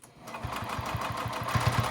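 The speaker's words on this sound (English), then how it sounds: "now I'm just sewing around the perimeter of the blanket" A sewing machine stitches around the edge of a fleece blanket, running a fast, even, close chatter of needle strokes that starts up and holds steady, with no speech.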